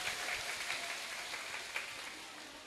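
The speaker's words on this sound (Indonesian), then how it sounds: "Tepuk tangan dulu." Audience clapping together at an Islamic religious lecture, a brief, fairly soft burst of applause heard from within the crowd, fading slightly toward the end.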